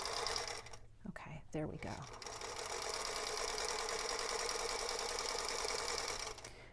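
A sewing machine stitches a quarter-inch seam while piecing quilt blocks, humming in a steady, close mechanical whir after a short pause and brief quiet words, running continuously until it stops near the end.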